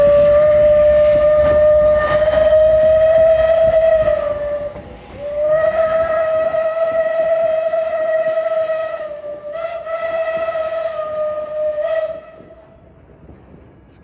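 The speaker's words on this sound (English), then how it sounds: "There goes the steam train again." A steam locomotive at a Midwest threshers show sounds a long, loud steam whistle with strong harmonic tones, then several more whistle blasts in sequence, with rumbling rail and crowd noise beneath and no talking.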